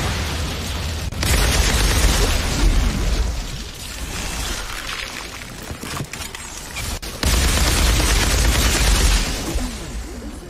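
Sniper gunfire and heavy impacts from the video game Outriders boom in loud, dense bursts with sharp cracks between them, surging and easing over a continuous roar of combat noise without speech.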